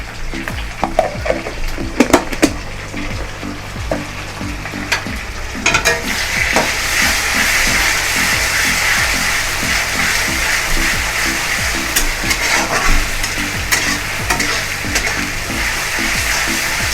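Ginger garlic paste hits hot oil for a chicken dish, and the sizzle surges into a loud, steady frying hiss, joined by repeated scraping stirs.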